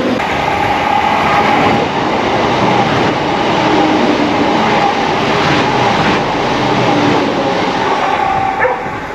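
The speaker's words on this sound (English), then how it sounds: "So that was an epic railway journey of which Stevie Marsh himself would be proud" Passenger train ride between Inverkeithing and Dalmeny, heard from on board: a loud, continuous rumble and roar of wheels on rails with faint squeals and clanks throughout and no speech.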